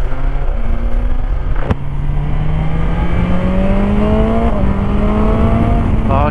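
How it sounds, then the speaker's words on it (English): A 2020 BMW S1000XR motorcycle engine revs up loudly nearby, its pitch climbing steadily through a smooth sustained pull, with a brief sharp click partway through. "I love this noise from this bike"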